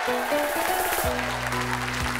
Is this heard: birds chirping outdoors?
no